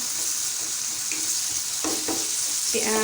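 Diced potatoes fry on a hot tawa for a spicy potato dish, giving a steady, close sizzle with a few soft stirring scrapes near the end.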